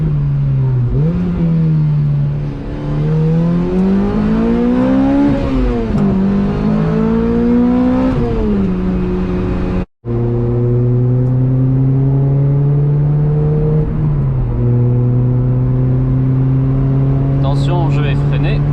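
A Lotus Exige S2 engine drones loudly from inside the car as it accelerates, its pitch rising through the gears with a brief dip between shifts. The driver talks over the steady engine note.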